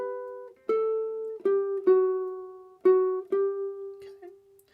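A ukulele plays a short melodic phrase of plucked notes, about seven separate attacks, each ringing and decaying cleanly, close and alone.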